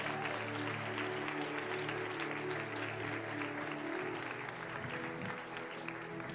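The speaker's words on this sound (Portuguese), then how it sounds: "aplauda ao Senhor" Church congregation applauding during a Portuguese-language worship service, a dense sustained wash of clapping over low sustained music tones, steady and loud throughout.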